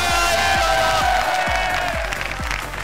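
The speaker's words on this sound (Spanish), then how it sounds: "un aplauso para él" An audience claps for a guest called up on stage, a sustained, loud wash of applause with a regular thumping beat underneath and some cheering.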